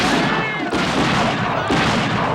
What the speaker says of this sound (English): What are they shooting at there, George?